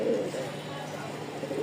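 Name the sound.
Lakkha pigeon pair cooing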